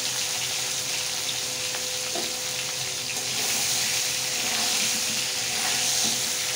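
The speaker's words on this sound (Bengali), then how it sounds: "লবণ দিয়ে একটু নাড়াচাড়া করে ভেজে নেব।" Garlic curry frying in a pan with salt added, a loud continuous sizzle with occasional scraping of a stirring spoon, close and without speech.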